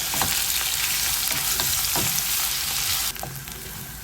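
Onion and bay leaves fry in hot oil with a steady, dense sizzle throughout, a few soft crackles and stirring knocks rising above it, and the hiss thins slightly near the end.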